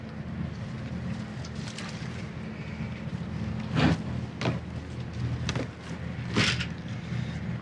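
Twin boat engines warming up aboard a sailing yacht before leaving the dock, a low steady rumble under wind noise with a few brief knocks and clatters nearby.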